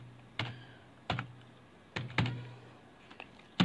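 Keyboard typing while entering a label in software during a raglan sleeve pattern-drafting lesson: a handful of separate, crisp key clicks with uneven gaps, fairly close and alone, over a low steady hum.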